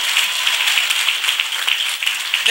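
Congregation clapping at a church service, a dense, continuous patter of many hands held at a steady, fairly loud level for the whole stretch.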